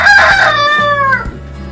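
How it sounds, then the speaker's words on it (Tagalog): A Decal Brown heritage rooster crows once up close, a loud, drawn-out cock-a-doodle-doo that rises and then trails off, with faint farmyard noise underneath. "Ito yung ating rooster. Ito yung rooster natin"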